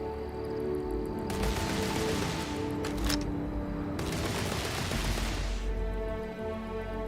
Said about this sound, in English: Who's shooting at you now,